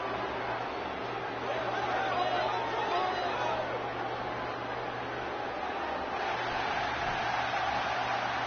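A big wrestling-arena crowd roars for Big Boss Man in a WWE video game on PS4. The cheering is loud and steady, a wash of noise with a low hum running underneath.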